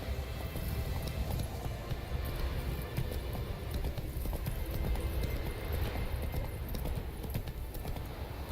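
Roach, a horse in The Witcher video game, gallops with steady rapid clip-clop hoofbeats over a dense noisy outdoor bed, loud and continuous throughout.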